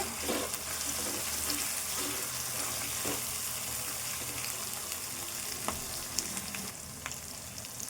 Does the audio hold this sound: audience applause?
no